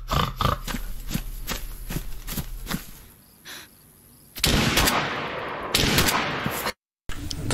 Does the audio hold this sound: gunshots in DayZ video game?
yes